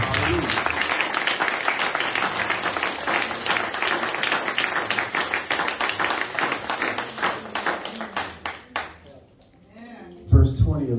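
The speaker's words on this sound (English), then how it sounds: "let's give y'all a hand clap" A church congregation claps and applauds loudly and steadily for several seconds, the clapping fading into a few scattered claps with a voice speaking over the end.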